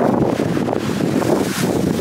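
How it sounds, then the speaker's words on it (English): Wind buffets the microphone in a continuous low roar, gusting and rumbling throughout with no voices. "Oh, it is windy, windy."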